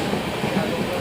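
Inside a moving train, a constant low rumble and rattle of the carriage fills the moment evenly, with no distinct voices standing out.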